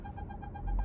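A parking sensor in a Nissan Armada sounds its obstacle warning as a rapid train of short, evenly spaced electronic beeps over a low engine rumble.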